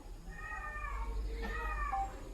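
A cat gives two drawn-out meows, moderately faint, over a low steady hum.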